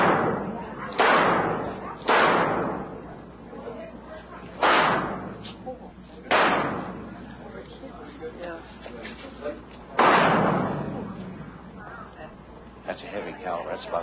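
A .38-caliber revolver is fired double action at a shooting range, giving five spaced, heavy reports that each boom and decay, with people talking between the shots.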